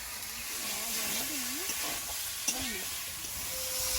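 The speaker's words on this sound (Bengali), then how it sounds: "কলা আলুটা প্রায় ভাজা ভাজা হয়েছে" Steady sizzling and hissing of plantain frying in oil in a pan, with faint stirring scrapes.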